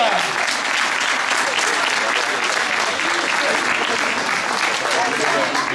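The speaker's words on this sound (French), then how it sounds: "On peut l'applaudir." A crowd at an inter-regional karate tournament awards ceremony breaks into steady, dense applause that holds loud and even throughout, many hands clapping at once with voices mixed in beneath.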